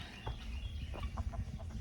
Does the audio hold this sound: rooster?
yes